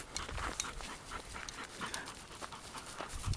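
A rabbit-hunting dog pants rapidly and steadily up close on a walk, with quick rhythmic breaths and faint whimpers.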